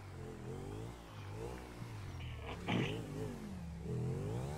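A motorbike engine in a video game revs hard, its whine climbing and falling in smooth sweeps. It stays steady and moderately loud with no talking over it.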